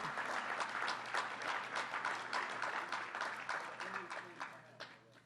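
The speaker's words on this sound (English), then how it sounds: "let's give him a big round of applause" A room full of people claps in sustained applause, quite faint and distant, fading a little toward the end with a voice faintly mixed in.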